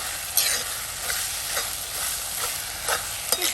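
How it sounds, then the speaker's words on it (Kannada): Tomato, onion and green chili cooking with ginger-garlic paste in a pan, stirred with a spatula: a steady soft sizzle broken by several scraping strokes at an uneven pace, close by and alone. "ಟೊಮೆಟೊ, ಈರುಳ್ಳಿ, ಹಸಿಮೆಣಸಿನಕಾಯಿ ಎಲ್ಲ ಸಾಫ್ಟ್ ಆಗಲಿ"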